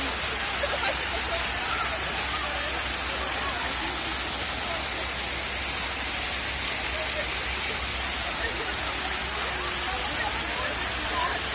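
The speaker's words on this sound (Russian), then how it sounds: "Водопад." Fountain water on Khreshchatyk in Kyiv pours down like a waterfall, making a steady, dense rushing hiss that stays even and close throughout with no break.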